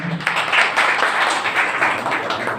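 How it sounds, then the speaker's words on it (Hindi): An audience at a club felicitation ceremony for a former village sarpanch breaks into a short, lively burst of applause, many hands clapping together at close range. "एक जोरदार तालियों से उनका स्वागत किया जाए"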